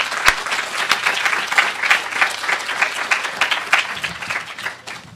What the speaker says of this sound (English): So let's give ourselves a round of applause.